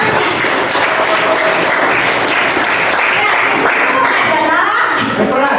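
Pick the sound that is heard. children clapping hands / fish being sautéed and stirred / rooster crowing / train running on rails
children clapping hands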